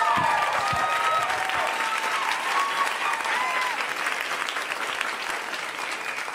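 An audience applauds steadily and fairly loud for the whole stretch, a dense, even wash of clapping with no voices over it.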